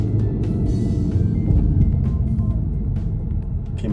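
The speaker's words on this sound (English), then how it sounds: "Watch, automatic downshift." An all-wheel-drive performance car's engine runs loud and close with a continuous low roar while cruising, holding fairly steady rather than showing a clear downshift blip, with no talking.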